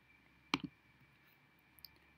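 Single sharp computer mouse click with a softer follow-up tick, close and isolated against quiet room hiss, then a faint small click later.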